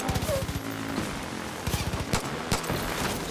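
Gunfire while driving in the video game Far Cry: New Dawn, with rapid automatic bursts interleaved with single sharp shots over a low engine drone.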